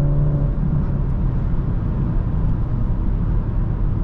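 A 2024 BMW 330i xDrive cruises along back roads, heard from inside as a steady low engine and road drone with an even, unbroken hum.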